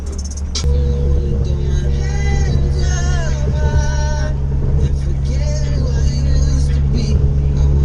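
A six-cylinder car engine runs with a steady low drone throughout, while people talk over it inside the vehicle.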